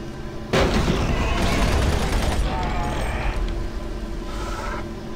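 Gunshots in the video game Doom 3, a sudden loud burst of several rapid shots with heavy booming tails in an enclosed game space, under a voice talking.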